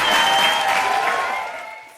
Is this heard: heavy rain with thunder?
no